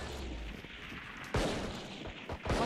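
Gunfire in the Valorant video game, a few sharp shots with one louder burst midway and quicker shots near the end, over a steady hum of game ambience.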